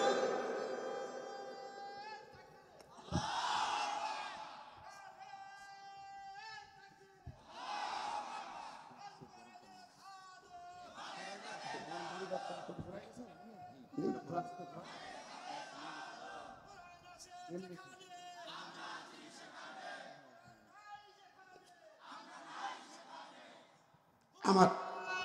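Rally crowd at a Bangladeshi political gathering in Rajshahi answering a call of Naraye Takbir with repeated loud shouted chants in bursts, interleaved with a voice over a public address system.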